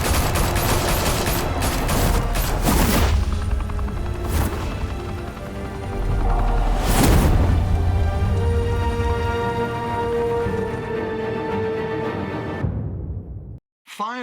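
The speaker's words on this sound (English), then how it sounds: "Open fire!" Gunfire from the video game Batman The Telltale Series: dense volleys of shots and booms crackle over loud game music and ambience for most of the scene, fading out near the end.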